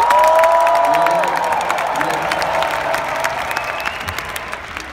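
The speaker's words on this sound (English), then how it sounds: "we should clap for that" Loud conference crowd applauding and cheering, with whoops and shouts riding over dense clapping that starts strong and gradually eases while staying continuous.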